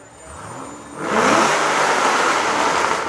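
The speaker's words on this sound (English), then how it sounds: "All right, what about a rev? Let me get a rev, let me get a rev." A car engine revving hard on a Miami street during carspotting, a quick rise from a low idle into a loud, sustained high-revving roar close by, with no talking.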